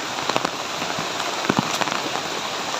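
Steady rainfall on a wet, overcast day in the Philippines gives a constant hiss, broken by a few sharper, louder drops tapping close by.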